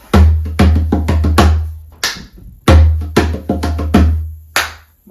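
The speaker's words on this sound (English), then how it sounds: "So I'll say, put a clap in the gap." Hands clap sharply and close up in a rhythmic pattern, grouped bursts of crisp claps with short gaps between them, over a low thumping beat that resembles a cajón.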